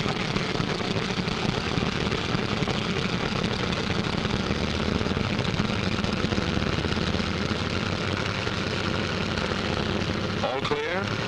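WWII fighter planes take off in pairs, their piston engines and propellers producing a dense, loud, continuous roar that fills the whole stretch without letting up.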